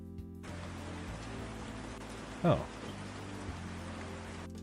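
Rain sound effect auditioned as ambience for a Godot indie game, a steady broadband hiss of falling rain with a faint low rumble of passing cars, interrupted by a brief spoken exclamation midway.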